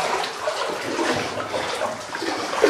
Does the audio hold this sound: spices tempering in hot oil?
no